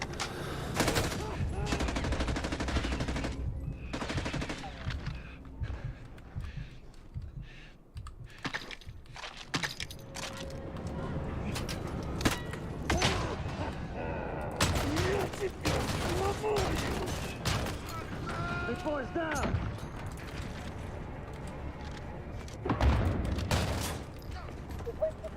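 Gunfire in Call of Duty: Modern Warfare (2019), with repeated bursts of rapid shots mixed with sharp clicking keyboard taps, someone talking over the action throughout.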